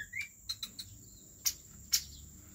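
Short chirps and a rising whistled note from a young green leafbird, its natural call, scattered in a few brief bursts over faint background noise.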